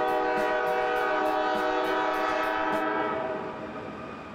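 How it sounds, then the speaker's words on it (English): A train rumbles past close by at Cascades Park, a long blaring horn holding over rhythmic clacking of wheels, then fading slightly as it moves on. "Several times a day, you can hear the trains coming and going."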